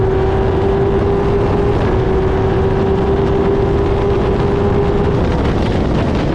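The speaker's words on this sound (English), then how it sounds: "Slight bogging of the engine there, as you can hear" A steady, loud F1000 racing car engine drone with a constant tone that dips and stutters briefly as the engine bogs down; no talking.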